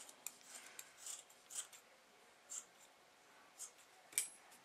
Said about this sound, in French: Donc, je vais couper sur le côté pour ne pas...